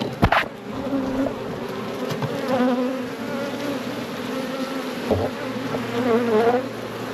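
Honey bees hum and buzz continuously around an open nuc box during summer hive management, a dense, close swarm drone with a few individual bees zipping past and a couple of faint knocks.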